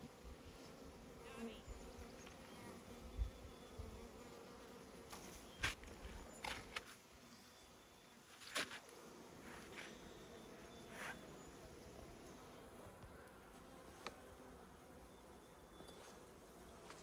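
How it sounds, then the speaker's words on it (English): Bees buzzing close by inside and around a beehive while a beekeeper works in Alaska, a continuous dense hum with individual insects zipping past now and then, faint and steady throughout. "So there's just some bees hanging out in here"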